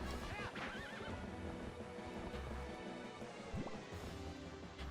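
A horse in a video game neighs in a rising, wavering whinny, with clip-clopping hooves and busy game sounds running underneath throughout.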